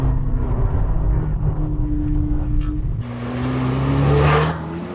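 A McLaren 720S Spider accelerates hard, its engine note climbing in steady rising tones that jump to a brighter, louder pitch after a gear change midway, close and continuous with no talk.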